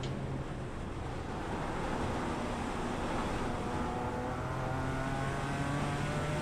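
A race car engine drones in the iRacing sim at the Nürburgring Nordschleife during an endurance event, a steady, dense engine roar with a faint sustained tone climbing slightly, continuous and fairly loud.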